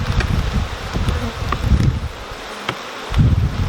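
Honeybees from a strong colony buzz steadily around frames being lifted from a honey super and held over the brood box during a summer honey flow, with dense close humming, soft rustling and light wind noise.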